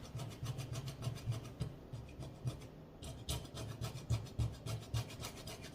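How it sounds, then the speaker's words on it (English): Steady gritty rasping and scraping, a scrubbing pad working back and forth over burnt-on sugar on a stove top in continuous, rhythmic strokes, close by. "You can hear it too, like cutting away at the burnt on sugar."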